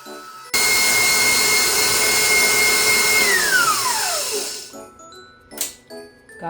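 An electric mixer beating cream cheese frosting stiffened with extra icing sugar, loud and close, running at a steady whine before slowing and winding down, followed by a few light clinks.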